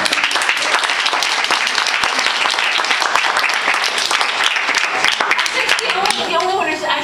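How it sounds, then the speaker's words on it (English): Audience applause for poetry prize winners at a Europe Day 2011 event, dense and steady clapping throughout, with a voice starting to speak near the end. "let's have a round of applause for everybody"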